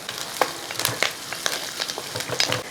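Onions and curry leaves sauté in a pan for green gram curry, a close crackling sizzle broken by sharp spattering pops and the scrape of stirring, with no voices.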